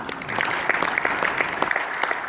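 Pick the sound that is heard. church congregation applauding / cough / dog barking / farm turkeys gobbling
church congregation applauding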